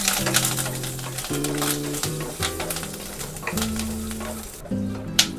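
Peanuts, dried red chillies and curry leaves crackle and sizzle in hot oil, a busy close frying noise with stirring scrapes and a low tonal hum underneath.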